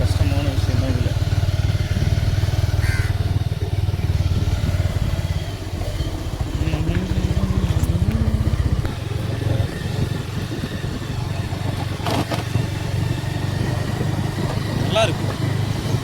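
A motorbike rides along a muddy off-road track after rain with a continuous, rough engine drone and some rattling, while a voice speaks at times over it.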